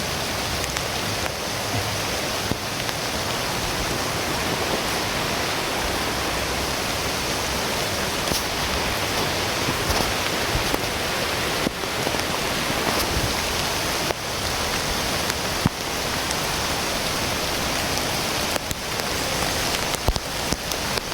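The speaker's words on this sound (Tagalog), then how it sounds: "Kaya lalong lumakas yung ulan." Heavy rain pours steadily near a river, a dense, unbroken roar of water close by with no letup and no voices.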